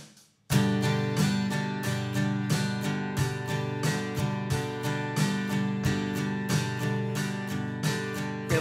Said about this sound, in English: If you want to play a reggae feel, just play the upstrokes.